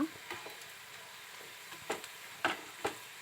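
Onion bajji fritters fry in hot oil with a quiet, steady sizzle, broken by a few soft clicks and taps from the pan.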